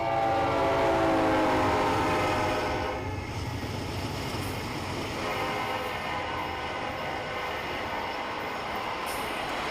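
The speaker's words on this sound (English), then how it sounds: "NS-290 coming out of Birmingham, Alabama, with NS Central of Georgia Heritage Unit 8101 in the lead." A Norfolk Southern intermodal freight train leaves Birmingham, Alabama, led by a Central of Georgia heritage locomotive, with a loud horn blast at first, then a steady rumble of wheels and engine passing close.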